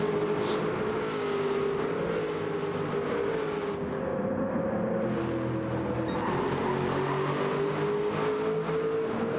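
Race cars lap Brands Hatch in a sim racing game, a continuous droning engine note that rises and falls as the cars accelerate and shift.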